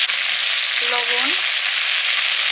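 Spice paste of ground red chili, turmeric and cumin frying in oil: a loud, dense, steady sizzle up close, with a brief faint voice-like tone in the middle.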